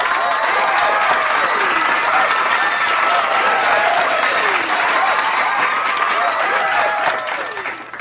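Dense, steady applause from a crowd fills the clip at full strength, cheering a 2-0 tally on day 2 of an impeachment trial, then tapers off near the end.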